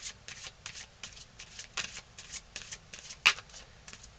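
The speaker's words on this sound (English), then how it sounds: "I'm using the Archangel Michael cards" Archangel Michael oracle cards are shuffled by hand in a quick, steady series of papery riffles, close and fairly soft, with one sharper snap near the end.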